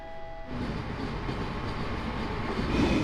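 A train rumbles through Zagreb train station, a steady loud rolling drone that starts abruptly and builds toward the end, with faint tonal hum above it and no voices.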